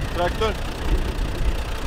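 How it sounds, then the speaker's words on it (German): A tractor engine idling with a steady low rumble close by, a brief voice rising over it near the start. "Willst du einen Traktor probieren?"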